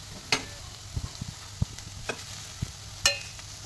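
Prawns sizzle gently while roasting fat-free in an AMC cookware pan, a quiet steady frying hiss broken by a few sharp clinks and stirring knocks.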